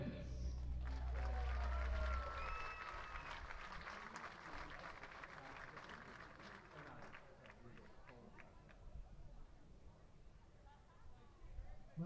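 Crowd applause and cheering at a college summer baseball game as lineups are introduced, a broad steady roar that slowly fades over several seconds, with a public-address voice and chatter mixed in.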